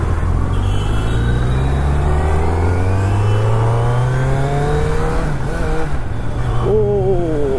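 A Kawasaki Z900 superbike engine is throttled gently, its note rising smoothly in a steady, close rev that climbs and then eases back, loud and continuous with no talk over it.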